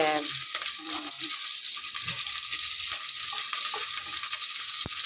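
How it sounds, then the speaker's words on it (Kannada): Cumin, black pepper, ginger and curry leaves sizzle and crackle in ghee and oil in a pressure cooker, a steady bright frying hiss with small pops throughout. "ಶುಂಠಿ, ಕರ್ಬೇವಿನ ಸೊಪ್ಪು ಎಲ್ಲ ನಾವು ಚೆನ್ನಾಗಿ ಫ್ರೈ ಮಾಡ್ಕೊಳ್ತೀವಿ ಮೊದಲಿಗೆ"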